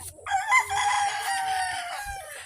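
A rooster crows close by on a farm during a calamansi harvest, one long loud cock-a-doodle-doo lasting about two seconds, with no talking.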